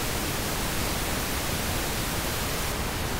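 A pink noise test signal plays as a steady, dense broadband hiss, constant and even throughout with no breaks, nothing else audible.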